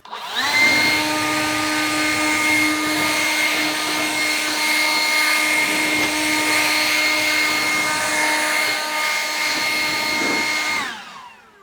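A blower clears dust out of a chicken coop, its loud, steady whining roar holding for about ten seconds before cutting off.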